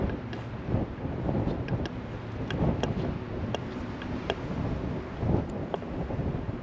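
Wind gusts across an open plateau near Loarre castle, buffeting the microphone with uneven low rumbles and soft thumps that rise and fall continuously with no one speaking.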